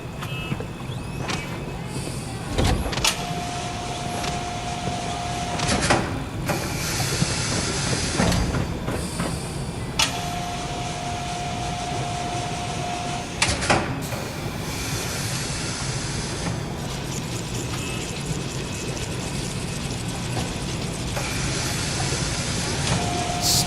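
A synth assembly machine whirs and clanks at the Institute in a video game, a steady mechanical rumble broken by periodic heavy thumps and short humming tones that repeat every few seconds, with no voices.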